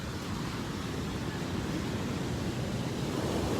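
Ocean waves wash onto a beach during a seaside walk, a steady, loud broadband roar of surf with wind noise and no pauses throughout.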